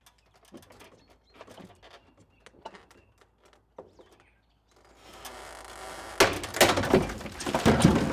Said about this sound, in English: So my entire achievements for the day are I broke a gutter.